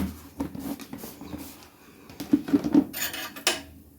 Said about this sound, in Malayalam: ഇതൊന്ന് ഇളക്കണം.